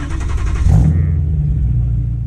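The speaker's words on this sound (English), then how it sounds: "couple of quick revs" A BMW M3 with a new exhaust gives a sharp rev that drops into a deep, loud, rumbling idle.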